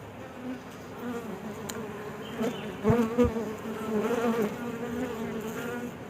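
Steady insect buzzing from many bees around a hive, a continuous droning hum with a few louder passes close by, no voices.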